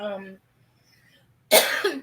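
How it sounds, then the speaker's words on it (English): A voice speaks briefly, then after a pause a single harsh, close cough bursts out. "If I cough a lot, I'm sorry."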